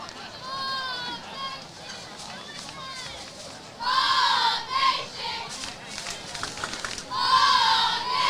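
Crowd noise added to a Pleasant Grove vs Paris football game broadcast rises in cheering, yelling bursts over a constant background murmur. Commentators talk throughout.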